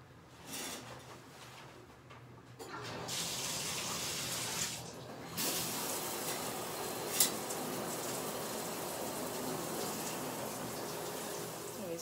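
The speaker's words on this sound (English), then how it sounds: "So now I'm about to go, take a shower" Shower water runs steadily in a bathroom, a dense continuous hiss and splatter that swells as the flow changes, with brief dips and one sharp knock partway through.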